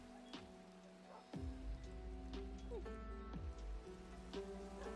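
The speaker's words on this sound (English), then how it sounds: "Sounds like it started to rain." Steady rain in the Minecraft video game, a continuous hiss pattering on surfaces in a game world, with faint tones and soft voices underneath.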